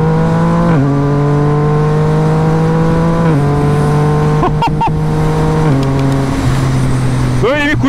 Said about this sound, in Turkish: Şimdi Quick Shifter'ı size şöyle dinleteyim.